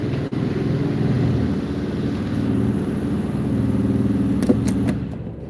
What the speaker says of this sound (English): Jamie just started up a bike here